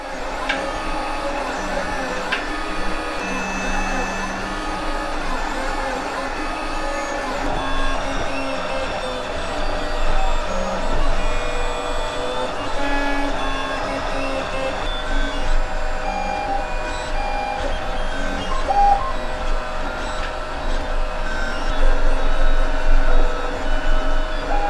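A 3D printer printing parts: a continuous motorised whir with shifting tones and faint periodic beeps that swell slightly toward the end, heard alone without talk.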